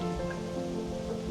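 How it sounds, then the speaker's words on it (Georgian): Rain falls outdoors in Thailand, a brief soft patter of drops on surfaces under a faint steady background hum, with no speech. "ეხლა მაგალითად სახლიდან რომ მოვდიოდით, იქ არ წვიმდა და აქ კიდე წვიმს"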